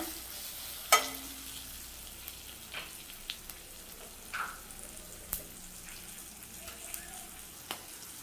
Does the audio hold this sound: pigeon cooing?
no